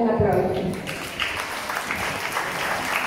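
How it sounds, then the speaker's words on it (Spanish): An audience at a university mural inauguration applauds a poet and writer with a steady, close burst of clapping that holds for the whole few seconds, with a voice briefly heard at the start. "Recibámosle con un aplauso."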